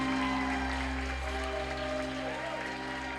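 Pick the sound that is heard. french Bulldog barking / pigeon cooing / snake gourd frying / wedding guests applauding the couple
wedding guests applauding the couple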